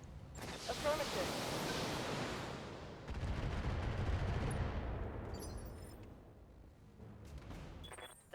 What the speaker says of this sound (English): We'll go ahead and shoot some missiles.